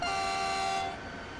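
A NightJet train horn in Train Simulator Classic, running between Linz and St. Pölten, heard from outside the cab: one loud, sustained chord-like blast that cuts off and leaves a faint fading tail.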